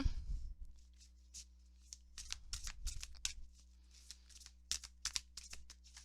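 Oracle-style tarot cards from a twin-flame deck being shuffled by hand, a close, dry run of rapid riffling flicks and soft card slaps in irregular bursts, with a steady low hum underneath and no talking.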